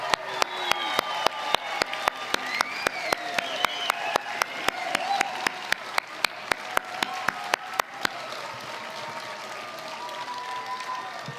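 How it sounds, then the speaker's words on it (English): Audience applause at a white coat ceremony for dental and dental hygiene students, steady crowd clapping filling the room for about eight seconds before fading into quiet murmur. "please join me in applauding these talented individuals on receiving their white coats"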